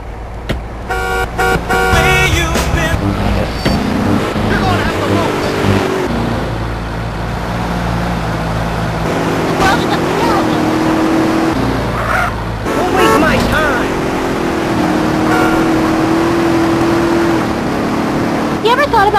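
A car drives in GTA: San Andreas, its engine a loud, steady drone with tyre noise and passing horns and skids, while characters talk over it throughout.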